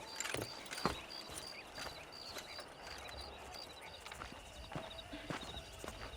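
Horse hooves clip-clop at a steady walk in the Red Dead Redemption video game, fairly faint and close, under someone talking over the gameplay.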